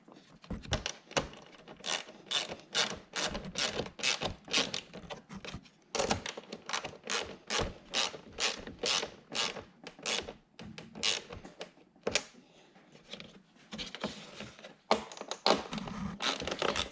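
Ratchet tightening the screws on a spoiler for a C7 Corvette, a quick, fairly quiet run of repeated clicks in steady bursts, close by and continuing throughout.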